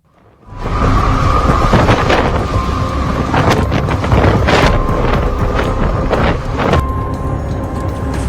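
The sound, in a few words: typhoon Yagi storm wind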